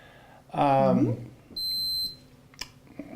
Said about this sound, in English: Beeping sound.